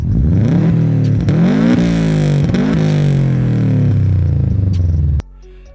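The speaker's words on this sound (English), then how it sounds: "it's the Subaru WRX STI models. They sound incredible when you put an aftermarket exhaust on them." Subaru WRX STI boxer engine with an aftermarket exhaust revving repeatedly, loud and close, with rising and falling rumbly bursts before cutting off sharply to a quiet idle.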